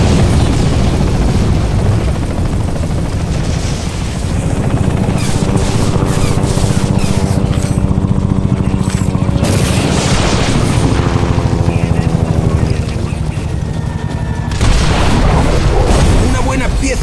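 A Banshee aircraft attacks in the Bulletstorm video game, loud and sustained, with rotor-like droning, booms and bursts of gunfire layered throughout and a sharp break near the end, under game dialogue.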